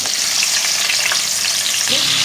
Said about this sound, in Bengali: তেলের মধ্যে আগে থেকে সেদ্ধ করে রাখা আলুগুলো এক এক করে ভেজে নেবে